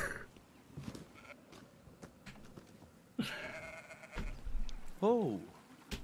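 Sheep bleat in a biblical video game, several wavering bleats near the end over game music and effects, with a person talking throughout.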